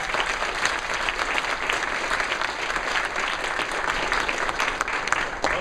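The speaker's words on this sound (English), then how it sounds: "I think she needs a round of applause." An audience at an accounting boot camp lecture breaks into sustained, dense applause, loud and close, holding steady throughout with a faint murmur mixed in.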